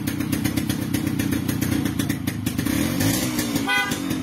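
A Kawasaki HD3 motorcycle engine idles steadily, then near the end a short horn honk sounds out clearly over the engine noise.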